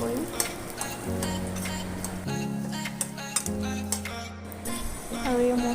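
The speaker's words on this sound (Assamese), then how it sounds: "আৰু এইখিনি আলু ফ্ৰাই কৰিম" Potatoes frying in a little oil in a wok for aloo paratha, giving a steady sizzle with occasional stirring clinks and scrapes against the pan, under some tonal background sound.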